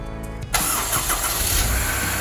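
A Honda S2000 CR, fresh from a starter replacement, cranks briefly and fires, then holds a loud, close, steady idle with a slight rev.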